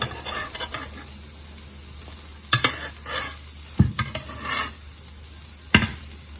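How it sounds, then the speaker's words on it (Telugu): Cut pieces of egg and vegetable omelette fry in a pan with a soft, continuous sizzle, broken by a few sharp utensil clinks and scrapes nearby. "ఇప్పుడు దీన్ని మనం ముక్కలుగా ఇలా కట్ చేసుకున్న దాన్ని ఇలా కాల్చుకోవచ్చు."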